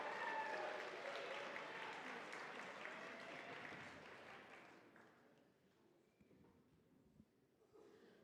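An audience at an ice-climbing festival event in Munising, Michigan cheers and applauds, a loud dense wash of clapping and whoops that fades out over several seconds into a quiet room with faint scattered noises.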